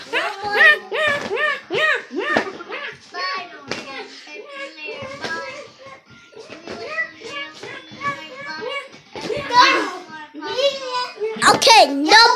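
A child imitates a dog, letting out rapid bark-like yelps and whimpers mixed with excited chatter. The voice stays close and loud throughout, with hand noises in between.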